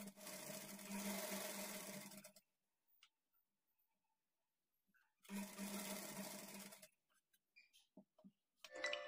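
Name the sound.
sewing machine stitching a high neck blouse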